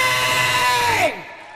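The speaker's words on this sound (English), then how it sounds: "This is his hometown crowd as well" A hometown wrestling crowd at an independent show in Birmingham fills the hall with sustained cheering and loud whooping, a steady roar under a high shouting voice that falls away abruptly near the end.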